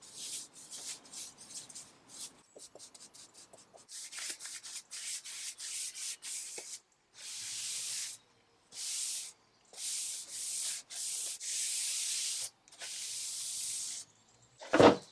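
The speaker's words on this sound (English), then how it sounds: "When the wood filler was dry, I sanded the back panel" Sanding a wooden back panel coated with wood filler, with long rhythmic scratchy strokes that come in repeated bursts separated by short pauses, close and steady throughout.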